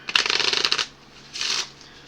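Deck of board game soldier cards for Warfighter being riffle-shuffled twice, a loud rapid fluttering burst followed by a shorter, softer second shuffle, close up with no talking.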